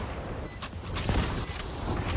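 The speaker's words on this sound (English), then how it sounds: "Reloading." A weapon reloads in the game Valorant with short mechanical clicks and clacks over faint background game noise, with no talking.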